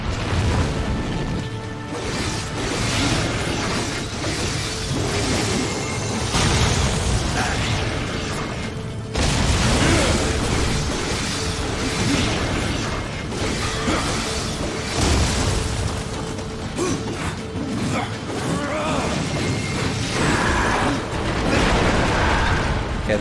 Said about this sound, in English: that little explosion